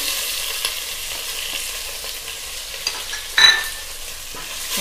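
Onion, curry leaves and a pinch of asafoetida frying in a pan for paruppu sambar, producing a steady, bright hiss of sizzling oil with a short louder burst of crackle partway through.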